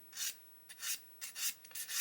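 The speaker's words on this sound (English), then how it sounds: "I'm going to take this sanding stick" A sanding stick rubs back and forth over a plastic model part in five or six short, raspy strokes, close up and fairly quiet.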